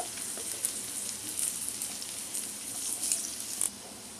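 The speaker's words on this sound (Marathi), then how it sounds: "अद्रक लसणीचा आपलं कच्चेपणा घालवायचं आहे, तर आपण त्याला चांगलं जरा शिजवून घेऊया।" Ginger and garlic sautéing in a pan for egg Hakka noodles give a steady, fairly faint sizzle throughout, with a few brief louder crackles and no talking.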